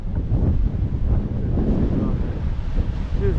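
Strong storm wind buffets the microphone on a rocky Maltese coast at Xghajra, a loud continuous roar with sea spray and surf mixed in.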